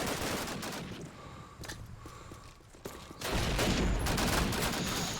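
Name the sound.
gunfire in the video game Call of Duty: United Offensive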